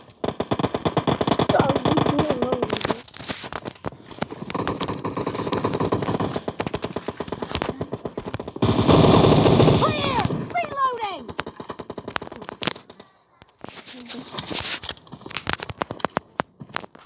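Rapid bursts of automatic gunfire in PUBG Mobile crackle loudly in several volleys, with a dense flurry midway and short bursts toward the end, mixed with game effects.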